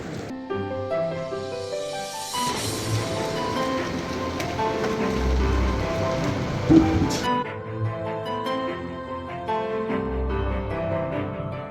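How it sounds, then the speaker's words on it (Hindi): Heavy rain pours steadily onto a roof in a hillside home. The patter is dense and continuous, with a few low rumbles swelling and fading beneath it. "छत में ना बहुत तेज़ बारिश पड़ रही है"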